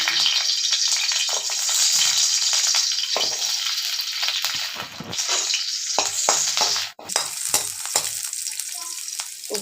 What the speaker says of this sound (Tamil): இப்போ இதை வறுத்துக்கலாம்.